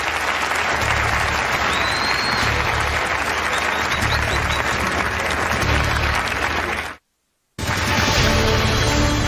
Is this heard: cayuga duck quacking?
no